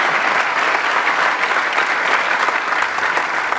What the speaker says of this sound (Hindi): अच्छा लगा तो तालियां बजा दो।